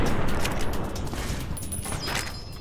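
Gunfire in Fallout: New Vegas, a dense, continuous burst of shots and crackling impacts filling the whole stretch at a loud, steady level, with no voices over it.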